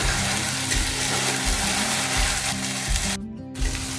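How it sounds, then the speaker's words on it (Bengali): Onions sizzle and fry steadily in a hot pan with turmeric and salt added, a continuous close crackling hiss with faint stirring scrapes, heard alone. "পেঁয়াজটা ভাজা ভাজা হয়ে গেছে"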